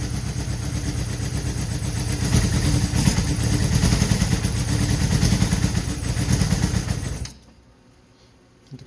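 A Honda N600 car with its motorcycle-derived engine, freshly running after a fuel system overhaul with lean carburetors, chugs and clatters unevenly near and loud, then cuts out abruptly near seven seconds, leaving quiet.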